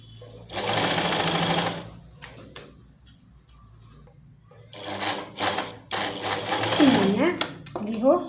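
A sewing machine stitches the hem of a flared circle skirt in two close, steady motor-driven bursts separated by a pause, with a voice briefly heard around them.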